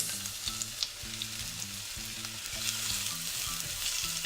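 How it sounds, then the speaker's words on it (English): Chopped onions sizzle and fry steadily in a pan, a constant crackling hiss with no voices. "we're gonna start off first by frying up some chopped onions"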